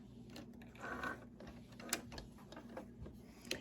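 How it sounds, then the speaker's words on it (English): A sewing machine stitches a folded fabric edge for a locker-organizer pocket, lined up along the presser foot, with a faint mechanical hum and occasional light clicks and ticks. "use the edge of your presser foot to follow when you're sewing"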